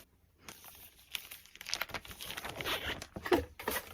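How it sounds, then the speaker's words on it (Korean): Concert merchandise packaging being torn open up close, with crinkly plastic crackling and ripping in irregular bursts after a brief quiet start. "일단 크기가 큰 거부터 한번 뜯어볼게요."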